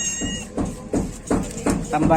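A cat meows several times in a short rhythmic series while being fed tamban fish bones, close and fairly loud, with people talking over it.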